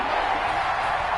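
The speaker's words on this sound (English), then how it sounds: "the crowd getting into it as we come up on a big third down" A stadium crowd in the Madden 21 football game roars steadily as a big third down approaches, a broad, even wash of cheering with no breaks.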